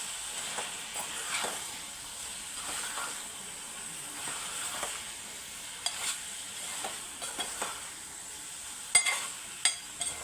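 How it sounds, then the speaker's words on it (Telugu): Chili powder being stirred into a chicken and potato curry in a pan: soft, scraping strokes of a spoon repeat at an uneven pace over a quiet, steady sizzle, close by and fairly faint, with no talking. "ఇప్పుడు దీన్ని మంచిగా కలుపుకుందాం"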